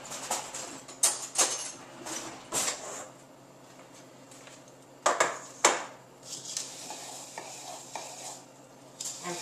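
Melted butter with coconut and chocolate chips stirred together for a chocolate coconut almond cheesecake base, heard as close, irregular scraping and clinking strokes with brief louder knocks between softer stirring.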